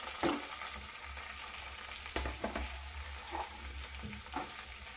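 Chopped onion, green chilies and curry leaves sizzle steadily in hot oil with cumin, with a few scraping stirs and clinks of a spoon against the pan, no voices.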